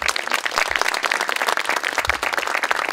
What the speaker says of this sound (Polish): Powitajmy go oklaskami.